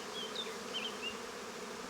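Honeybees at a beehive hum in a soft, steady, continuous drone, with a few individual bees buzzing past nearby against the faint background.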